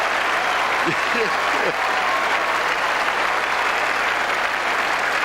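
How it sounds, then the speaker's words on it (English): Stadium crowd at a 1994 Australian football match between Hawthorn and Adelaide applauds in a steady, dense roar of clapping and cheering that fills the whole stretch, with faint commentary voices beneath. "And some applause for that play"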